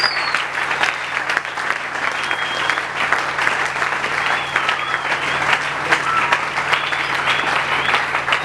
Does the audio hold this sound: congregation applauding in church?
yes